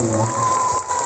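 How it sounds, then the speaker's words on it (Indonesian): A school assembly at an elementary school welcomes its new headmistress, a dense wash of crowd clapping with a steady hiss and no clear gaps. "Ini tepuk tangan untuk bunda kita mengajar Masyarakat SDN ya."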